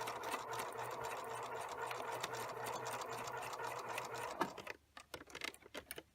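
A sewing machine runs steadily while stitching a quarter-inch seam on a cloth bag with backstitching, a continuous close mechanical whir that stops near the end, leaving a few separate clicks and handling taps.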